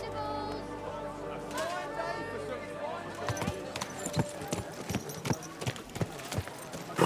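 Rhythmic horse hoofbeats clip-clop on a hard surface in the video game Kingdom Come: Deliverance 2, growing louder and quicker after a quiet start, over a soft background with faint tones.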